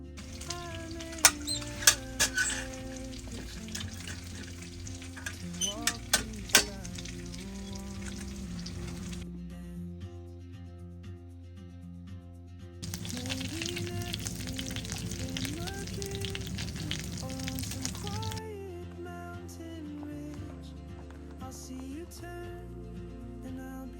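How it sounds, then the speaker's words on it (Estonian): Pike cutlets frying in a pan, a steady busy sizzle that runs throughout, briefly easing then surging again, with occasional sharp pops and clinks of a utensil, close and moderately loud. "Hakkame praadima."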